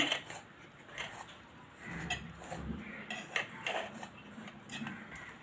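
A knife is run around a chocolate cake baked in a kadhai pan, giving faint, quiet scraping and light metallic clinks in an irregular rhythm.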